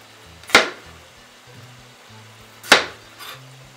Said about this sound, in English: We want to cut it in halves, and then we want to get nice even slices